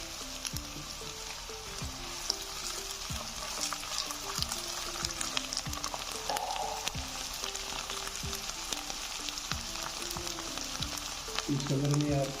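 Garlic ginger paste sizzles and fries steadily in hot oil in a pan while tinda sabzi is cooked, a continuous close crackle with a few spoon scrapes and a louder burst of sizzling at the end.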